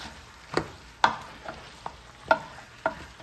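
Ginger and garlic paste cooks in a pan for chicken biryani, giving a soft sizzle under several sharp stirring scrapes spaced about half a second apart, close and fairly quiet.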